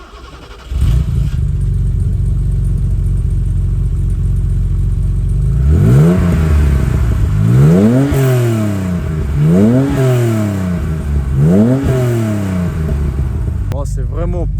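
A 1979 BMW 635 CSi engine idles loudly and then revs four times in a row, each blip rising and falling sharply, close by with people talking over it.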